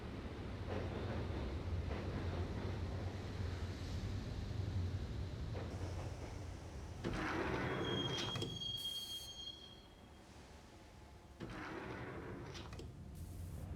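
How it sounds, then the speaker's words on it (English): Subway train in the Max Payne game rolls into Roscoe Street Station, a steady rumbling ride with metallic wheel squeals, a sharp high brake screech midway and hissing door-like bursts as it slows. "the train doors had already shut behind me, and I was in for the ride"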